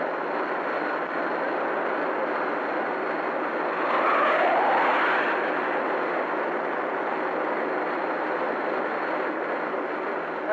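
A loud, steady roar from inside a 1970 Israeli military jet flying over the Suez Canal front against Egyptian positions, swelling briefly mid-way and otherwise constant, with no speech.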